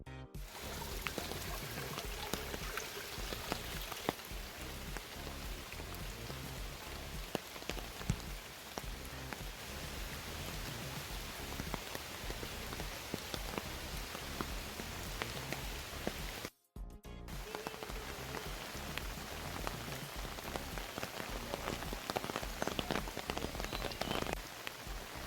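Steady rain falls outdoors during a rain-or-shine outdoor adventure, a dense continuous patter on surfaces that holds for the whole stretch, briefly cut off once in the middle.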